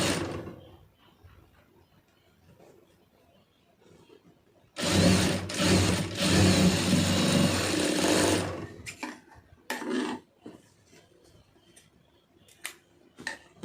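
An electric sewing machine stitches a hook placket (V placket) in one steady, loud run of about four seconds, then falls into scattered clicks and handling noises in a quiet room.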